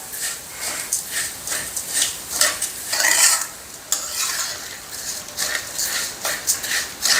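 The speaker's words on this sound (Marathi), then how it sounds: "अशा पद्धतीनं छान असं मंद गॅसवर सगळीकडून तांदूळ हा खमंग असा आपण छान भाजून घेऊया" Rice grains roasting in ghee over a low flame, stirred steadily, giving a soft continuous sizzle broken by repeated scraping strokes of the spoon, with no talking.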